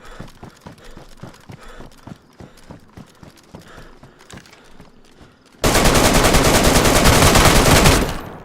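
Sustained burst of RPD machine gun fire in the video game DayZ on Deer Isle, a loud continuous rattle lasting several seconds after a stretch of rhythmic footsteps.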